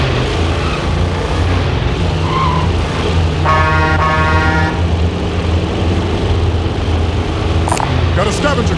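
Vehicle driving in the Call of Duty Warzone video game, a steady loud engine drone with a brief harsh skid-like burst and some mechanical clatter, running continuously throughout.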